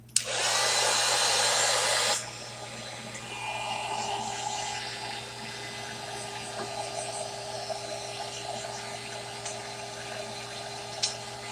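A hair dryer blasts loudly for about two seconds on paper sprayed with ink, then cuts off, leaving quieter rustling and handling sounds over a low steady hum.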